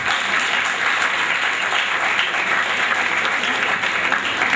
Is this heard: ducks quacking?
no